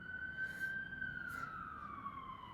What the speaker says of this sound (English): I'm sorry for the sirens.